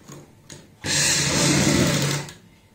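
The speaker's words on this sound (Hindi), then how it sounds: "सेंटर पॉइंट बनाने के बाद अब हमें यहाँ पे बुकरम के साथ साथ सिलाई लगानी है।" An electric sewing machine running a line of stitches along buckram on a kurti neckline: one close, steady whirring burst of about a second and a half, preceded by faint handling clicks.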